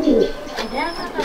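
Pigeons at a loft coo in a low burble close by, with voices talking over them and other bird sounds mixed in.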